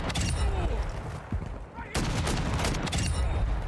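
Rapid bursts of gunfire from a weapon in the video game Call of Duty DMZ, loud and near, broken by a brief lull before the shooting resumes.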